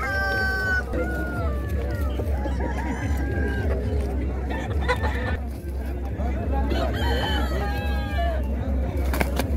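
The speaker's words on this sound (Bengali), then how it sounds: "মোরগ লড়াই জঙ্গলমহলের ঐতিহ্যবাহী লৌকিক বিনোদন।" Roosters at a traditional village cockfight at a rural fair in Jangalmahal crow and cluck, with loud drawn-out crows standing out over a constant crowd murmur and voices.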